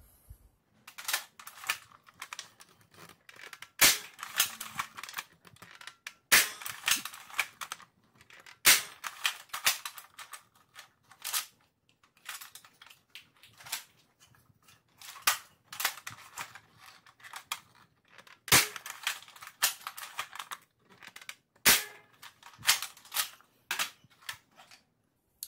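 A Nerf Longshot fitted with a Jet Blaster Omni Kit firing blue- and green-tipped foam darts: sharp, close clicks and snaps in irregular bursts, with quieter handling rattles between shots and no talk.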